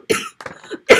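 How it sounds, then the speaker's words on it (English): Two sharp, close coughs burst out about a second apart, with a muffled throat sound between them, during a card-stamping craft session. "I'm trying not to cough."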